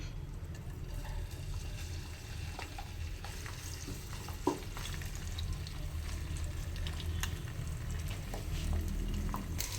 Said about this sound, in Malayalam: ഈ കല്ലുമ്മക്കായ ഞാനൊരു പാത്രത്തിൽ ഓയിൽ ഒഴിച്ചിട്ട് വെച്ചിട്ടുണ്ട്. ഇനി നമുക്കിതിലോട്ട് കല്ലുമ്മക്കായ ഇട്ട് കൊടുക്കാം.